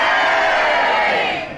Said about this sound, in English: And if you think he was incorrect, will you all boo?